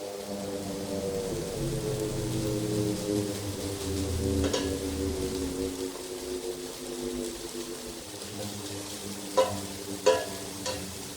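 Onions and sweet potato for enchiladas cooking dry in a pan with no oil, giving a steady soft sizzle and stirring scrape, with a few sharp utensil clinks near the end.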